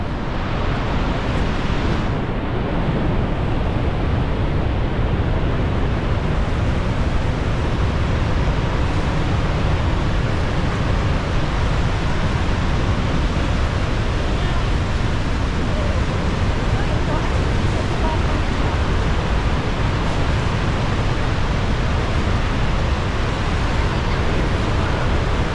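A steady, loud roar of river water rushing under ice near Niagara Falls in winter, continuous and unbroken throughout, with a wind-like hiss over it.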